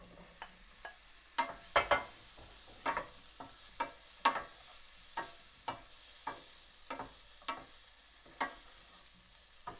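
Paneer cubes frying in ghee, a steady low sizzle broken by a dozen sharp scraping stirs of a spatula against the pan, spaced about half a second to a second apart, close and fairly quiet.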